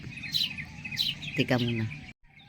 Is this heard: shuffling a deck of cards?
no